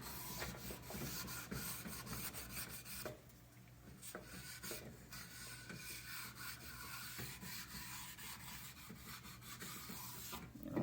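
Side edges of Lenz skibike skis are detuned by hand, giving repeated close rasping and rubbing strokes of a file or stone against the metal edge, with a brief pause in the middle.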